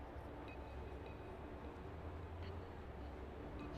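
A train in Love and Deepspace rolls along with a steady low rumble, soft and continuous, with faint intermittent clicks and squeaks riding over the drone.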